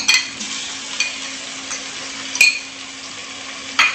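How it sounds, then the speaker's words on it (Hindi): Chicken frying in a pan with lightly golden garlic ginger paste for chicken pulao, a steady close sizzle broken by a few sharp clinks of a spoon against the pan, no talking. "अब हम इसमें चिकन डालेंगे।"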